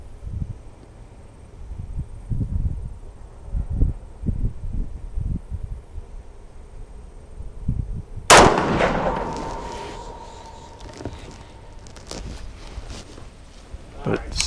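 A single sharp rifle shot from an Armalite AR-180 cracks out at an outdoor range, loud and close, with a ringing tail. Before it, someone speaks quietly over wind and rustling.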